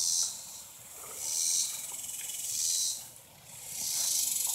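Insects in a summer pepper garden give off loud, pulsing waves of high buzzing that swell and fade roughly every second and a half, close by and without talking.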